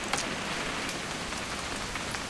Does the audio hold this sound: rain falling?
yes